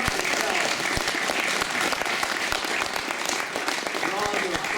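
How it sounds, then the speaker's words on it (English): Volunteers at a holiday social in Alameda, California give a sustained round of applause, a dense, steady clapping from a roomful of people that carries on throughout. "Applaud yourselves."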